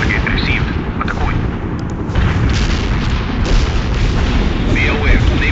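Artillery strike in World in Conflict: Soviet Assault, a dense roar of shell blasts and booms over a continuous battle din, loud and close, with brief radio chatter in between.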